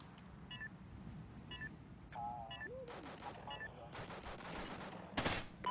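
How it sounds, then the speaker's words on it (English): Bursts of gunfire in the multiplayer shooter Call of Duty: Ghosts, rattling in quick volleys under game beeps and tones, with a louder burst near the end. "Oh, somebody's shooting at me. Stop shooting at me."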